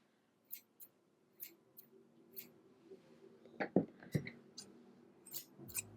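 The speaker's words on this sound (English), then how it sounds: "I love the way that good scissors sound." Crisp snips of scissors cutting repeat at an uneven pace, close and fairly quiet, with a soft rustle between cuts.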